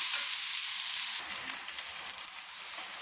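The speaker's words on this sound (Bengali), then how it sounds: "কুচানো পেঁয়াজগুলো নেড়ে পেঁয়াজটা যতক্ষণ না ভাজা হচ্ছে ততক্ষণ লাল লাল করে ততক্ষণ নাড়তে থাকবে" Chopped onions fry in a pan for a chicken kosha, giving a steady, bright sizzle that fills the clip. Occasional stirring adds small scraping accents, close at hand, with no voices.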